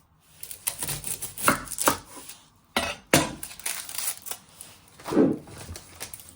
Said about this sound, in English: Next step, you're going to prep your red onion. You're first going to chop your end off.